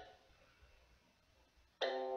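A bright bell chime in the horror video game Mad Father rings out suddenly near the end after quiet, sustaining loudly.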